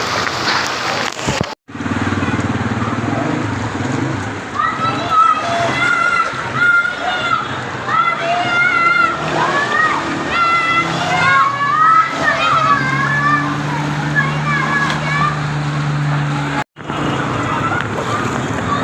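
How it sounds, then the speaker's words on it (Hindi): Heavy rain floods a street in Ichhra Bazaar, Lahore, water sloshing and splashing continuously close by, with a steady engine rumble, children's voices and people talking throughout. "तो आप देख सकते हैं बारिश हो रही है, पूरी सैलाबी सूरत हाल बनी है।"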